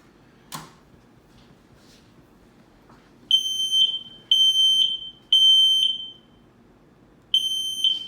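Smoke detector sounding after its test button is pressed, four loud, piercing electronic beeps in sharp bursts of under a second each, preceded by a faint click, no speech.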